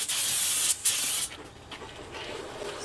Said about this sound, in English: Spraying them up now.